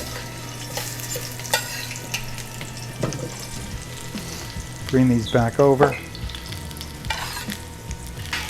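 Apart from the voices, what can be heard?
sizzling cream in a pan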